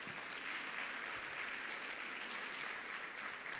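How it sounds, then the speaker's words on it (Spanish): Steady applause from a church congregation at a Sunday service, dense even clapping filling the whole stretch at moderate level with no voices over it. "fuertes aplausos, por favor."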